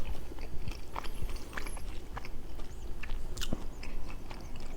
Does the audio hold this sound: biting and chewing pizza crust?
yes